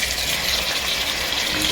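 Water gushes steadily and loudly into a cooking pot holding chicken and onions for Afghani pulao, a continuous close pour with no break.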